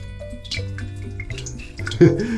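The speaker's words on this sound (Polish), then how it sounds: "Słyszycie, jak się woda nabiera?" Water seeping and trickling into a freshly dug well on a garden plot, heard as soft drips and gurgles, close and fairly quiet, ending in a brief louder splash.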